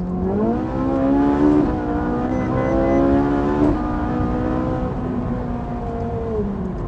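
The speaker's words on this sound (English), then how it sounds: "Do you want to hear some engine noise?" A powerful car engine revs up in rising surges, its tone climbing and dropping in steps over a constant roar, loud and close.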